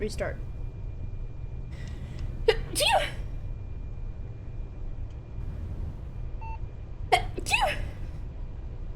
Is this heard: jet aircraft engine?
no